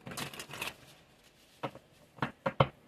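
Tarot cards being shuffled before drawing a single card: a short riffle of papery rustles, a pause, then three quick close snaps of cards, with no voices.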